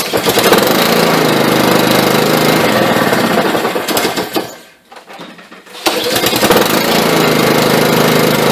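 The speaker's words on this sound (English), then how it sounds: "Now I get to cross my fingers and make sure this runs." A Honda HRX 710 lawn mower engine, just repaired after a no-spark fault, runs loud and close with a steady roaring drone, briefly drops out almost to silence, then picks back up to full running.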